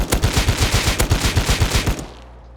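New light machine gun in the video game Rust firing a rapid, evenly spaced burst of about a dozen loud shots, then cutting off into a short fading tail.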